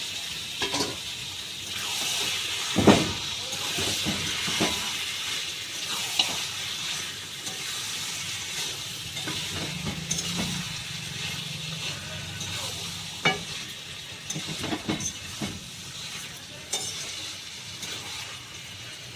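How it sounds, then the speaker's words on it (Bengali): Mutton pieces sizzle steadily in a pan over a high gas flame while a utensil stirs them, with scattered scraping clinks and knocks against the pan throughout. "গ্যাসটা হাই ফ্লেমে রেখে মাংসটা আমি ভালো করে একটু কষিয়ে নেব।"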